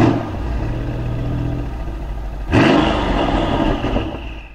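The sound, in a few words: Mercedes W202 supercharged car accelerating 0-100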